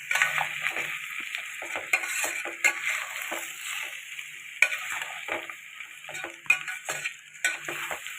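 Garlic and tomatoes fry in a pan for a pumpkin pulusu, giving a steady close sizzle with frequent scraping and clicking as a utensil stirs them.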